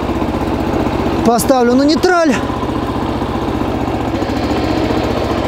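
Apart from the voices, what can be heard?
MTZ Belarus 152N small tractor engine running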